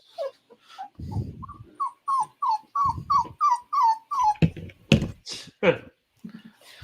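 A dog whimpering to be let outside, giving a close series of a dozen rising, evenly spaced high whines, with a few low huffs and a short bark-like burst near the end.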